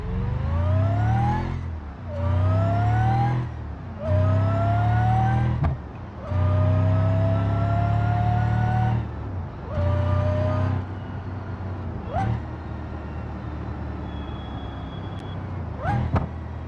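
A car engine in a driving video game played with a force-feedback steering wheel, revving up repeatedly in several rising bursts with pauses between them, then settling to a lower idle-like drone with a few brief blips.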